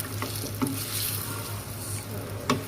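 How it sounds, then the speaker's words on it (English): Butter sizzles and fries in a pan over medium-low heat for tomato pesto pasta, a steady close crackle with a couple of brief stirring scrapes and no talk. "you have the butter in here and you don't want to burn your butter"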